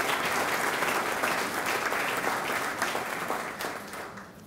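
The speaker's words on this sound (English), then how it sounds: "Let's give everyone a round of applause." A crowd at a business awards ceremony applauds steadily, dense clapping that holds then eases slightly toward the end, with no one speaking over it.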